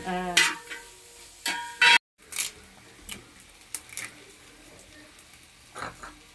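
Clam meat is stirred in a frying pan with spices, producing a soft continuous sizzle under scattered scraping strokes of a spoon, with a few sharp loud clatters near the start.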